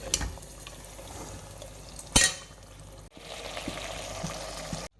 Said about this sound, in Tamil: சேர்த்துட்டு நல்லா மசாலாவோடய நல்லா மிக்ஸ் பண்ணிக்கோங்க. இது எண்ணெயிலே கொஞ்சம் நல்லா வதங்கணும்.